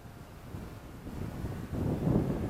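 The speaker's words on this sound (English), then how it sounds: "I'm getting some wind here" Wind buffets a microphone at a campground in South Jersey, a low rumbling roar that swells louder toward the end with no voices.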